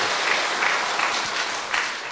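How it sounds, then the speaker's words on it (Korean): A church congregation at an early-morning service claps for the accompanist, a brisk, fairly close burst of applause with slight swells, no talking over it. "우리 반주해 주시는 분에게 박수 한번 해주실래요?"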